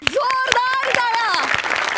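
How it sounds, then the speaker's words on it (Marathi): A studio audience at a Marathi TV comedy sketch show applauds with rapid, loud clapping, while a voice talks and calls out over the crowd. "जोरदार टाळ्या."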